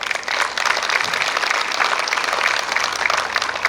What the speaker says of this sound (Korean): 우리 다 같이 박수 한번 보내주시죠